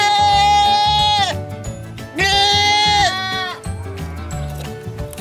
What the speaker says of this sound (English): One baby goat.